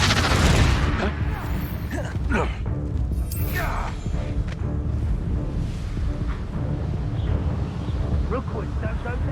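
Confringo fire spells blast in the Hogwarts Legacy game, with repeated loud bursts and whooshes over a constant roar of wind-like noise. A voice talks during the clip.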